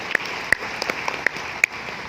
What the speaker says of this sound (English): Bea, can you please applaud her?